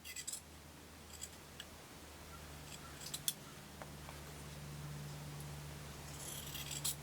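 Scissors snip through quilt fabric in a quiet room, faint soft cuts and light scraping clicks over a low hum, with no talking.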